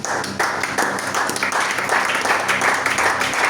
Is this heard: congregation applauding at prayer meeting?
yes